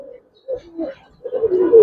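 Berlin pigeon chicks give a few soft, low coos close by, short throaty calls that build toward the end.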